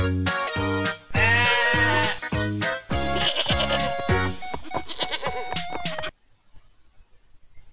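A goat bleats in a long run of loud, quavering, rapidly pulsed cries that stop abruptly, leaving near silence, heard close and alone.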